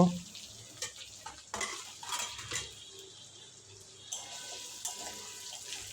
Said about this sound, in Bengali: ডুমো ডুমো করে কেটে রাখা আলু ভেজে নেব